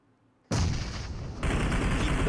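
Grenades and gunfire in PUBG Mobile during a tournament match, a sudden loud blast after a brief quiet, then dense sustained booming and crackling shots that swell again.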